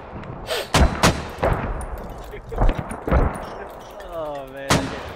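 Mortar rounds firing in SQUAD, a series of sharp, heavy booms at irregular intervals across several seconds, close and loud, with a voice talking between the shots.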